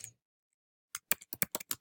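Quick keystrokes on a computer keyboard while an open-ended question is typed into a web form, about eight crisp clicks in a fast uneven burst after a short silence, close and alone.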